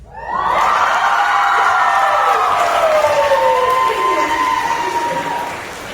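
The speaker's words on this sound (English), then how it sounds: "Thunderous applause." A crowd cheers loudly with whoops and shouts, rising suddenly and holding steady for several seconds before easing slightly at the end.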